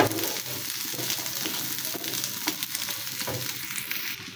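Garlic and chopped onion frying in a pan for a kalojira bhorta, a dense, continuous close sizzle with occasional soft stirring scrapes and no talking.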